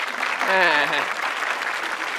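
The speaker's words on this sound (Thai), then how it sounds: "เอาขอเสียงปรบมือก่อนแล้วกันนะครับ" Audience applause at a Thai product pitch round of an innovation awards contest, a steady wash of clapping lasting about two seconds, with a voice briefly speaking over it near the start.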